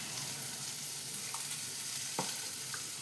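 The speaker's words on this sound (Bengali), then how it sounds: "দেখো মুসুর ডাল ভেজানোটা আমি দিয়ে দিলাম" Soaked whole masoor lentils fry in a hot pan with turmeric, giving a steady, close broadband sizzle with a few faint stirring scrapes on top.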